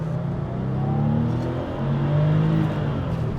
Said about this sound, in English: You just run it to redline and it gradually increases